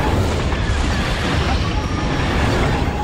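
A triple laser tower in a Star Wars video game blows apart under enemy bombardment, a dense, sustained roar of explosions and rumbling debris filling the whole stretch at steady high loudness.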